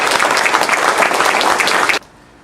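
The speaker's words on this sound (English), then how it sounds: "if everybody would give her a round of applause." A room full of people claps loudly to welcome Ms. Goolsby at a VA clinic gathering, dense applause lasting about two seconds before cutting off sharply into quiet.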